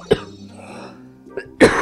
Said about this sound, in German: Blöder Husten.